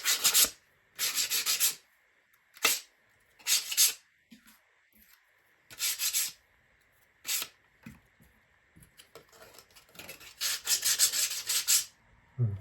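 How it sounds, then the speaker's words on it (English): Sanding burrs off laser-cut wooden model pieces for a mechanical cello music box kit: repeated bursts of close, scratchy rubbing, each lasting about a second, separated by brief pauses and quiet handling noises, with a longer stretch of sanding near the end. "Yeah, there's a lot of burrs on these. A lot of burrs on. Yeah, needs a lot of sanding."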